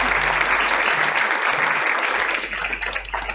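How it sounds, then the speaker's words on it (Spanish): Audience applause for a consejera departamental at a university lecture event, a dense, steady crowd of clapping hands that stays loud throughout and thins slightly toward the end, with no voices over it. "Pueden aplaudir."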